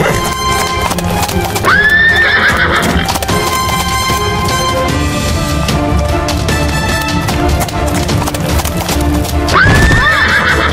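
Horse hooves clip-clop steadily in a cartoon, broken by two loud, close neighs, one near the start and one near the end, over busy background sound.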